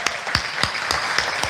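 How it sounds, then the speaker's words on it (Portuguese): A church congregation applauds, a brief burst of steady clapping from many hands with a few sharper, distinct claps standing out. "Você pode aplaudir o Senhor Jesus por isso?"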